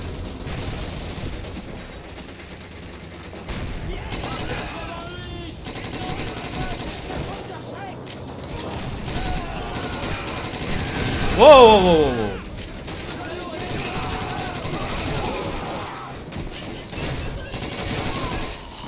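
Bursts of booming gunfire and cannon blasts in Call of Duty 2, with a louder volley midway, under ongoing talk.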